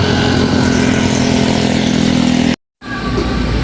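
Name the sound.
motorcycle engine idling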